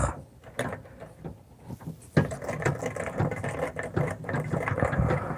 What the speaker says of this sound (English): Gotta keep your treadle going in the right direction.